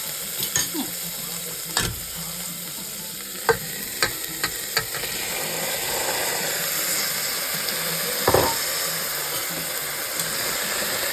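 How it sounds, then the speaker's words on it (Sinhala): Snake gourd fries in a pan with a steady sizzle, broken by several sharp scrapes and knocks as it is stirred, close and fairly loud with no talk. "වැටකුළු ටික දානවා. මෙතන වැටකුළු දෙකක්. මේක කලවම් කරගන්න."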